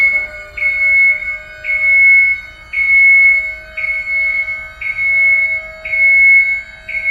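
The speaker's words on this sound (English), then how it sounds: "there's going to be a very sharp sounding beep, beep, beep" Sharp electronic warning beeps repeat about seven times at an even pace, loud and clear against a quiet background.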